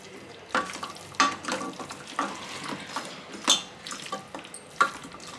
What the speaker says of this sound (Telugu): ఇప్పుడు వీటన్నింటినీ అన్ని ముక్కలకు పట్టేలాగా మంచిగా కలుపుకోవాలి.